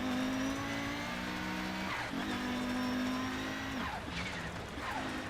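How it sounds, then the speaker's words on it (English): An Audi Quattro Group B rally car with a five-cylinder engine howls at high revs with a raspy, roaring note, dipping between gear changes and climbing again, loud and close. "the Audi Quattro is just, it sounds so good"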